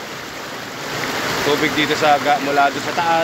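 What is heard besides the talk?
rushing river water flowing down from upstream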